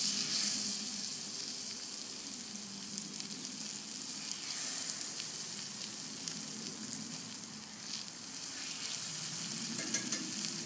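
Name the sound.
tuna burgers sizzling in a hot skillet on the grill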